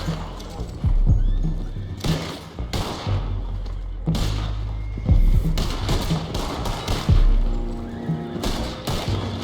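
Horses neigh and whinny in the video game Red Dead Redemption 2, with hoof clip-clops and dull thuds mixed in, loud and close throughout.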